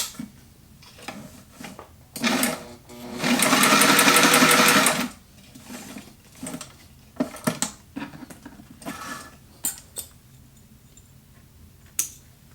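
Walking foot sewing machine stitching through two layers of leather, a loud steady mechanical run of about two seconds set between lighter clicks and handling taps.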